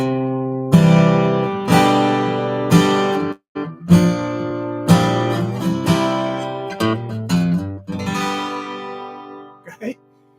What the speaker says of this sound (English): Just adding in some single note kind of licky things with some strums.